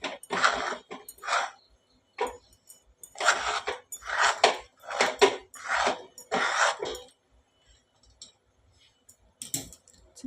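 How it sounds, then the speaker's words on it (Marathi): A kadhai pan being scraped and wiped with utensils while making modak filling, a series of close, separate scraping and clinking bursts in an irregular rhythm with short quiet gaps between them. "कढईने वगैरे सगळं छान पुसून घेऊया."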